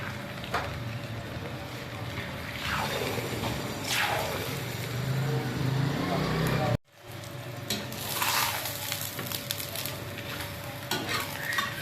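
Paratha frying in a pan on a home stove, a steady close sizzle with scraping and stirring sounds, briefly cut by a short silent break before the frying continues.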